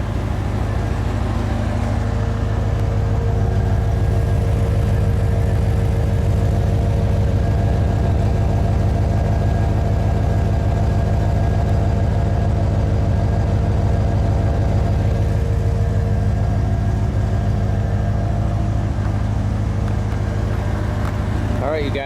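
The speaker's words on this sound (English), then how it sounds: "Probably one of the best sounding exhaust systems I ever heard in my life." A C4 Corvette fitted with a new Borla exhaust runs steadily, a loud, deep, continuous engine drone held at an even idle-like pace from close by for the whole stretch.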